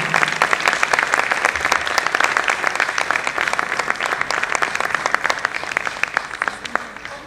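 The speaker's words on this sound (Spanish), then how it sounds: "Las recibimos con este aplauso." Audience applause welcoming guests at the Buenos Aires International Book Fair, loud, dense clapping from a crowd with some distinct nearby claps, steady for about seven seconds.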